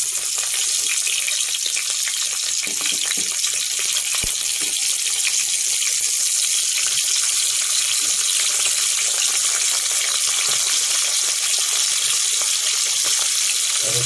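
Okra pieces hitting hot oil for deep frying, a steady loud hiss and crackle that holds evenly throughout with no voices.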